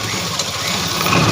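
Electric sewing machine running steadily as it stitches a collar onto a ladies' kurti, a continuous close motor hum with rapid needle chatter throughout and no voices.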